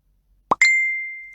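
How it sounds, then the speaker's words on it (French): Short digital notification sound: a quick low plop followed by a bright ringing ding that decays slowly, clean and isolated against silence. "La notification me réveille à 13h14, 6 minutes avant l'alarme."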